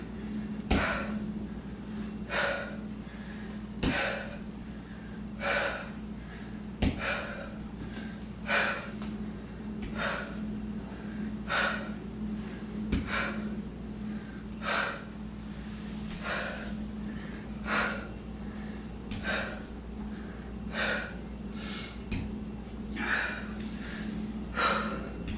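Heavy, rhythmic breathing during a full-body workout, sharp forceful exhales repeating roughly every one to two seconds, close and loud over a steady low background hum.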